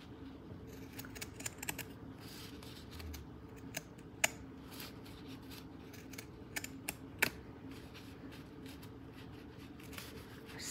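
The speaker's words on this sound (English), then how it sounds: "being very careful not to cut through the seam" Scissors snip through fabric close to a seam, with quiet, irregular clicks and sharp little cuts over soft rustling, faint and unhurried.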